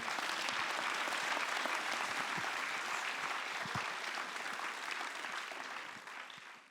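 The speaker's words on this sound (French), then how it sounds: "J'aimerais qu'on offre une bonne main d'applaudissement à Monsieur Guillaume Cromer." A conference audience at a centenary congress morning session gives a hearty round of applause for a speaker, thick continuous clapping that holds steady and then tapers off toward the end.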